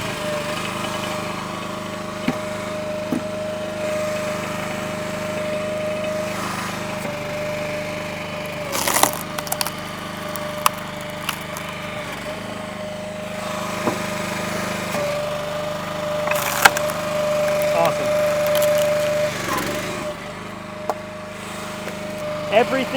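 A SPLIT-FIRE 3490 log splitter's small engine hums steadily in an outdoor yard while wood is split, with occasional sharp cracks and knocks as pieces break apart and someone talking intermittently over it.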